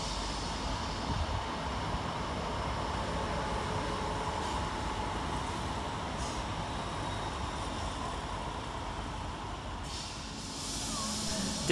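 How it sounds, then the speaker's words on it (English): Northern class 319 and 331 electric trains depart Huyton station together, giving a steady, fairly quiet rolling hiss and rumble with faint squeals near the end. "Departing at the same time is 319-370 and 331-006 and 331-024."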